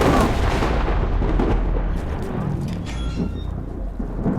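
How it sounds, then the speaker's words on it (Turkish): A nearby lightning strike in the video game CRSED gives a heavy rumbling crack that rolls on and slowly fades, deep and loud, with no talking. "Yakına yıldırım çarptı."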